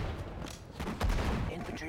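Gunfire in the World War II strategy game Sudden Strike 4 rattles in a short, dense fusillade of overlapping shots, moderately loud, with a voice shouting over the shooting.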